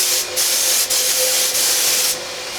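Steady hissing spray of a Fuji Mini-Mite 4 HVLP paint spray gun, broken by a few brief pauses, close and fairly loud, with no voices.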